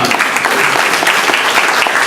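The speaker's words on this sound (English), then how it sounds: "Give him a round of applause" Steady, dense applause from an audience at a commendation event rolls on without a break, loud and close.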